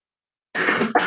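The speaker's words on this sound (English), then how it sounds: "so forgive my coughing, everybody" A person with a cold coughs twice in quick succession, close and loud, after a moment of silence.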